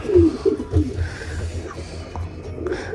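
Low, soft cooing from a large racing pigeon in a loft, a few throaty pulses early on, then quieter murmuring with faint background noise.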